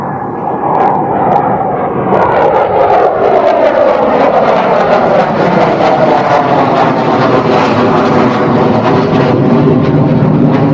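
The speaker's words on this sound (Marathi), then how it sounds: "खतरनाक आवाज होता. खतरनाक फायटर जेट होता." A fighter jet roars loudly and continuously overhead, unseen above the clouds at Malhargad fort near Pune, its engine tone slowly sliding downward as it passes, with no voices.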